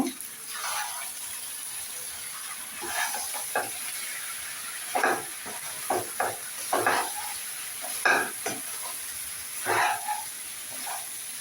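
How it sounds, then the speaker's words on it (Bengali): Noodles with vegetables and scrambled egg being stir-fried in a pan, with repeated scraping and stirring strokes over a steady soft sizzle, close by and fairly quiet. "এরপরে দিয়ে দিচ্ছি আমি স্ক্রাম্বল করা সেই ডিমটা এখন আরও একটু ভালো করে মিক্স করে নেব"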